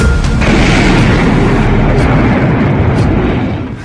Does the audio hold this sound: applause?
no